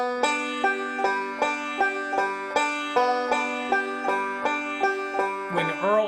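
Bluegrass banjo forward roll led by the thumb, a continuous, even run of crisp plucked notes played close for several seconds, ending in a brief scrape or slide of strings.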